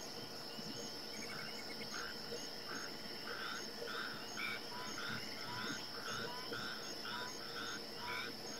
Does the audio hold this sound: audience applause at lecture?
no